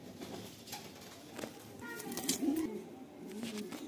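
A Rampuri pigeon coos softly in a few low, rolling calls, close by amid faint background noise.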